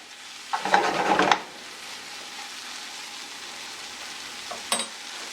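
Curry shrimp cook in a pot, with a short burst of stirring and sizzling near the start, then a steady low simmering hiss and one brief clink near the end.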